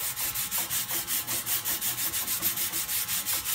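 A rag works 3-in-1 oil into the knurling of a turning barbell, giving a steady rhythmic scrubbing, about five strokes per second, close and even with no talk.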